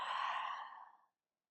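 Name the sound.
exhaling breath during yoga flow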